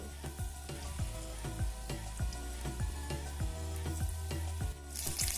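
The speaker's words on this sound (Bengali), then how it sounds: "বড়াগুলোকে আমি সাদা তেলে ভেজে নেব তেলটা গরম হয়ে গেছে এবার একে একে বড়াগুলোকে দিয়ে দিচ্ছি" Flattened chickpea lentil fritters sizzle steadily in hot refined white oil, the frying noise continuing under rhythmic background music with regular beats.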